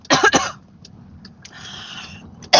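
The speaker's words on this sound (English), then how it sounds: "It was a cough and a sneeze and a choke at the same time." A close, explosive double cough bursts out, mixed with a sneeze and a choke, followed by a raspy, strained breath and another sharp sputter at the end.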